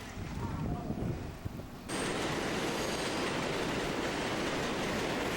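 A New York subway train rumbles and roars loudly, the noise swelling abruptly partway through into a dense, continuous wash of wheel and rail sound with wind buffeting.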